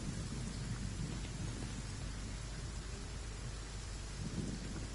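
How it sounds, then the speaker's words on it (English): Rain falls steadily and densely in Genshin Impact, with low rolling thunder rumbling beneath it throughout, a continuous storm wash with no talking. "If this rain keeps up, my fur will be dripping wet."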